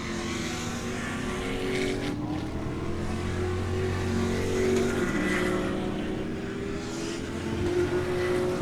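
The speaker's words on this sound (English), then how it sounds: "here comes your leader in Spec Corvette and the rest of the pack" Spec Corvette race cars pass on the track at Daytona in a pack, engines roaring and shifting pitch as they go by at moderate distance, with no talking.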